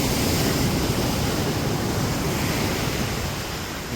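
Rough, heavy sea surf pounds the shore in a continuous, loud, dense roar, with wind mixed in and no voices.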